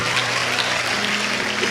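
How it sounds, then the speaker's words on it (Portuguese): A church audience at a sermon claps steadily in a brief burst of dense applause, heard close and without any voice over it. "Boa, pode aplaudir."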